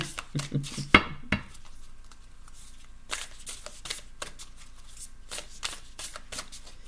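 Oracle cards riffle and flick in quick, crisp bursts with short pauses, close by and fairly loud, with no talking.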